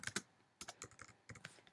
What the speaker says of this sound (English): So the first thing you need to do is type your text.